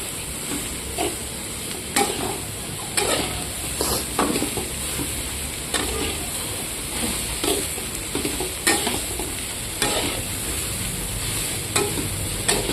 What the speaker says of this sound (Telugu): ఇప్పుడు బాగా కలుపు